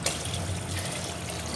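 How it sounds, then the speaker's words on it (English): Water poured into a sump pit during a submersible pump float-switch simulation, a close, continuous splashing trickle that runs steadily for over a second without any talking. "let's simulate pump 2 of running by pouring more water"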